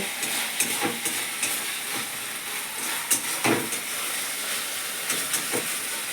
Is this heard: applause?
no